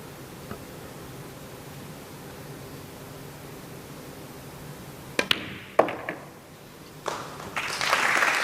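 At a European Open pool match a crowd sits in a near-silent hush, then sharp ball clicks ring out and applause breaks out and swells toward the end.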